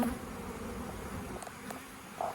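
Honey bees buzzing over beehive frames during a hive inspection, a steady continuous hum close by with no talking.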